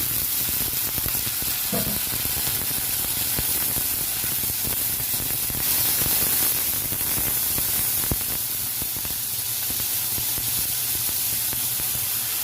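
Water poured into browned onions with garlic paste and spices in a hot pan for a Bengali lotir loti dish with mustard prawns gives a steady, broadband hiss and sizzle, fairly loud and continuous throughout with no talking.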